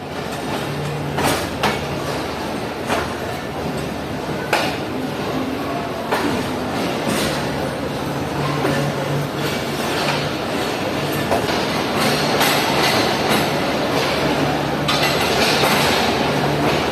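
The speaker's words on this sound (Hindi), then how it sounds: "हमारी 9 अप अल्लामा इकबाल एक्सप्रेस निकल रही है लाहौर रेलवे स्टेशन के प्लेटफॉर्म नंबर 2 से।" Allama Iqbal Express train pulling out of platform 2 at Lahore railway station, a steady rumble with rhythmic clicks and clanks of cars rolling past throughout, close and continuous.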